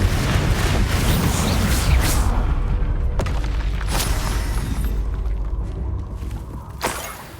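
Fiery Confringo spell blasts in Hogwarts Legacy, loud booming bursts and crackling impacts that pile up in a dense barrage, with a few sharp whooshes and a final blast near the end.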